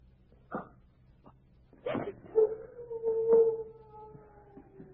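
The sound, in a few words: dog howling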